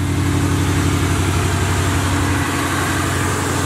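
A Box Chevy car engine idles loudly and close by, a rough, steady rumble that eases slightly partway through as the electric choke kicks in.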